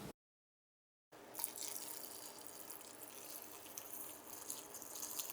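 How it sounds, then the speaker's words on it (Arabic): Water poured from a tap or jug into a blender over soaked chickpeas for a chickpea omelette. It starts after a second of silence and runs as a steady, close, splashing gush to the end. "بعد ما احط الحمص كله في الخلاط هضيف مية بحيث تبقى في مستوى الحمص نفسه."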